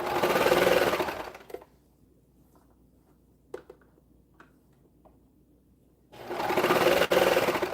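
A sewing machine runs in two loud, steady bursts of rapid stitching over a seam in fabric, separated by a quiet pause with a few small clicks and taps.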